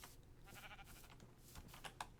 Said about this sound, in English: those are sheep and cows